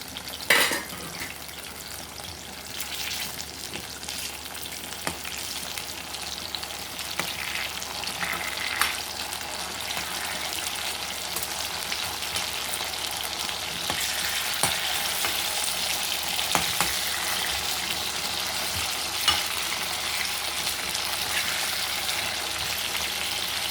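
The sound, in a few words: eggplant and potato frying in a covered pan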